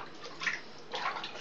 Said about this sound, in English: See the splashes.